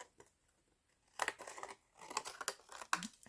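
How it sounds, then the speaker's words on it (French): Scissors cutting straight through a sheet of MOW craft foam: several crisp snips and crinkly cutting bursts close by, separated by short pauses. "Donc, je vais pouvoir couper droit ici."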